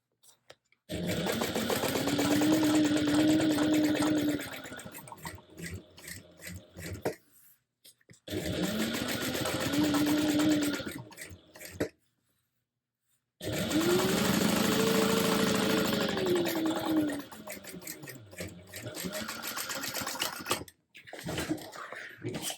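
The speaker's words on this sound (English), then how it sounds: "let's stitch again, just through the exterior. My lining is pulled out of the way. Top stitch this down 1/8 of an inch away from the edge" A sewing machine top stitches along the exterior edge of a handbag, running in several loud, sustained bursts separated by short pauses as the seam is guided along.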